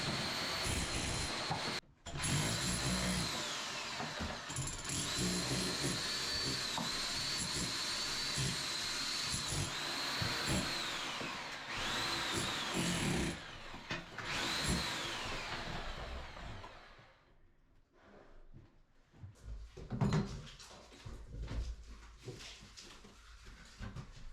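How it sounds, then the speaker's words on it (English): A loud, harsh SDS drill grinds continuously into a masonry wall for a long stretch, pausing briefly, then stops, leaving quieter knocks and movement. "I decided to go out and purchase an SDS drill"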